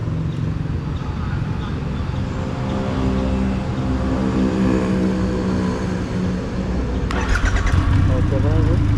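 A Triumph Rocket 3 motorcycle engine starts and runs with a deep, steady rumble that shifts near the end, with a voice talking over it.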